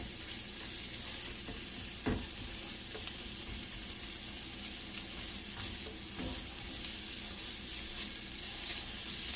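Shrimp fry in a hot pan for a quesadilla, giving a loud, constant close-up sizzle broken by a few stirring scrapes.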